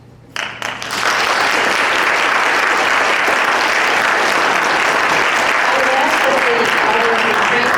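Loud, sustained audience clapping at a debate between candidates for U.S. Congress, starting abruptly after a brief pause and continuing as a dense, steady roar.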